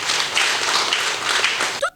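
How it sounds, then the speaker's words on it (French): A crowd claps steadily in dense, moderate applause, with a voice briefly breaking in at the very end. "Je voudrais que vous vous applaudissiez vous-même."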